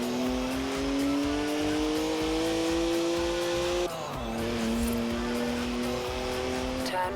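A rear-wheel-drive BMW drifting in Forza Horizon 4, its engine holding a high steady whine over continuous tire squeal, with a brief dip and a gear change midway before the revs climb again.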